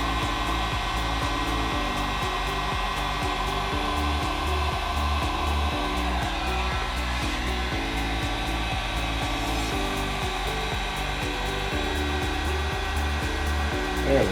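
A heat gun warms Veraform thermoplastic moulded around styrofoam, giving a steady, close blowing whir with a constant motor hum, uninterrupted and without talk.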